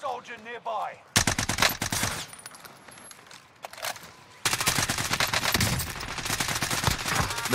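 Rapid automatic gunfire in a Rebirth Island match, loud close bursts of rattling shots separated by a short quieter gap, with a voice briefly heard at the start.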